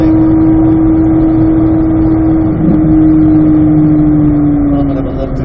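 A Chevrolet Corvette C8 Z06 on a race track, a loud steady engine drone holding a near-constant pitch with slight variation, heard continuously, no voices.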